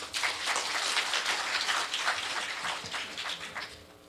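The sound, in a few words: rain falling outside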